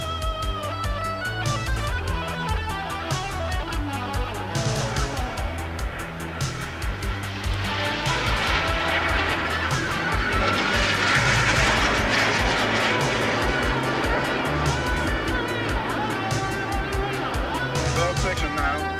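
Jet aircraft of the Italian aerobatic team crossing over at about 400 knots in a flyby, a loud continuous roar swelling toward the middle and staying strong to the end, with a commentator talking over it throughout.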